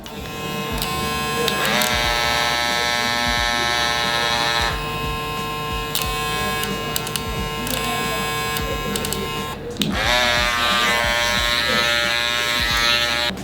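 A StyleCraft Ergo electric hair clipper runs with a loud, bright buzzing whine that cuts out briefly twice and resumes, joined by a few short knocks and handling noises.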